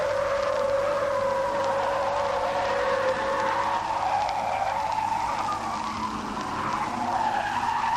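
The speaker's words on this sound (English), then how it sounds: "Listen to the Kingswood brake to take it at an incredible 50 miles an hour." A 1971 Holden Kingswood's tyres squeal in a long, loud skid as it brakes hard into a corner at about 50 mph, with engine noise beneath, no voices.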